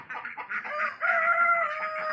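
A young White Leghorn rooster, around five months old, crows once in a clear, close, fairly loud call lasting about two seconds, with no voices.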